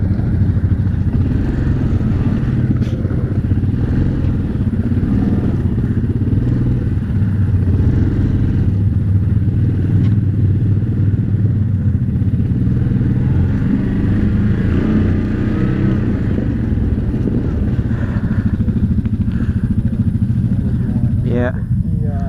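A 2019 Yamaha Grizzly 700 ATV engine rumbles loud and close on November ice, a dense continuous low drone with clatter and wind buffeting throughout.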